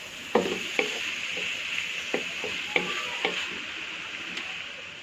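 Rice being stir-fried with its added ingredients in a pan, about two kilograms cooked in batches, gives a steady close sizzle broken by sharp scraping clacks of a utensil against the metal at irregular intervals, with no voices.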